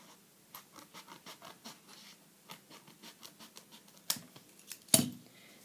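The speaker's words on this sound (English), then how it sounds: "I'm going to cut the line off." Scissors cutting a line off a paper bookmark, a close, quiet series of rhythmic snips and scratchy paper cuts followed by a couple of sharper clacks at the end, with no talk.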